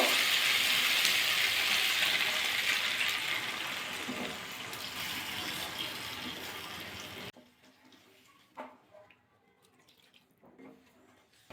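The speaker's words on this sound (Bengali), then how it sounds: "এবার জল দিয়ে দেবো" Water poured into a pan of cauliflower curry that was fried down beforehand, a steady close rush and splash running for about seven seconds, then stopping abruptly and leaving faint clinks and quiet kitchen noise.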